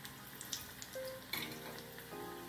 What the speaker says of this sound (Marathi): मंद गॅसवर छान तळून घ्यायचे.